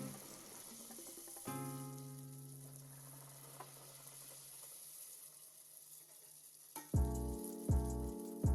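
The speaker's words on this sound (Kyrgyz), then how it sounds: "Майды кызыта ысытып алабыз да, эки жагынан кызарта кууруп алабыз." Meat-filled dough pastries made with milk in the dough frying in hot oil, a continuous close sizzle throughout, with a few bright tonal notes rising over it toward the end.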